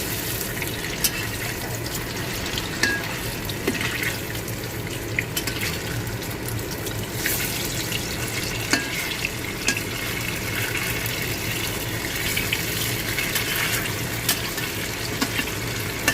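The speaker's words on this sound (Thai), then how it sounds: "เอามาทอดนะครับผม เดี๋ยวเราค่อยมาดูกันนะครับเนะเราทอดให้เหลือง" Tofu deep-frying in hot oil, a continuous dense crackling hiss that holds at an even level throughout, with no talking.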